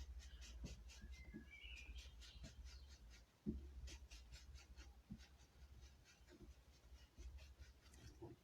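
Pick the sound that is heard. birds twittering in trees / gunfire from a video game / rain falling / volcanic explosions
birds twittering in trees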